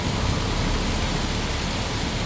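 Steady rain pours down during a stormy night in a Hindi animated story, a dense continuous hiss spread evenly throughout with no breaks and no talking.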